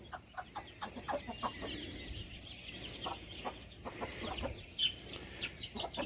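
Chickens in a coop give repeated soft clucks and short calls, scattered and moderately close over a quiet background, with no talking.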